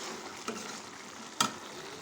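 Soft frying sizzle as chili powder is stirred into a chicken gravy in a pan, with a couple of brief spoon scrapes against the vessel over the steady hiss.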